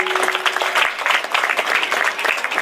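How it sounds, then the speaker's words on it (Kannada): Children applauding loudly at a government primary school function, a dense, sustained burst of clapping from a large crowd, close and continuous throughout. "ಮಕ್ಕಳು ಜೋರಾದ ಚಪ್ಪಾಳೆಯ ಮೂಲಕ ಅವರನ್ನ ಅಭಿನಂದನೆಯನ್ನು ಸಲ್ಲಿಸಬೇಕು"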